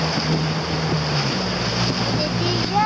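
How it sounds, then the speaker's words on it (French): A boat's motor drones steadily for three seconds on an outing from the Kélenn beach to the port of Carantec, with wind and water noise mixed in. "Moi je n'entends pas avec le bruit du moteur."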